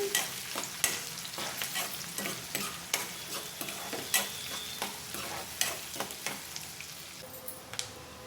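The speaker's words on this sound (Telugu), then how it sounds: "మీడియం ఫ్లేమ్లో పెట్టుకొని ఉల్లిపాయను చక్కగా ఫ్రై చేసుకోవాలి" Onions fry over medium flame in a pan with a steady sizzle, while a spatula scrapes and clacks against the metal every second or so.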